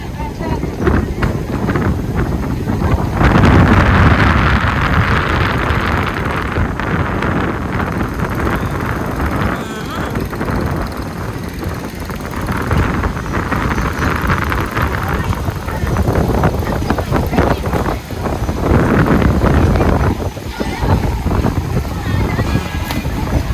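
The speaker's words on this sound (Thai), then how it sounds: "ตอนนี้ลมมาแล้วโอ้ยอยากจะฝนมากพี่น้อง" Strong wind ahead of a sudden rainstorm at a boat race in Thailand buffets the microphone in steady roaring gusts, with a loud rushing noise throughout and a voice speaking over it.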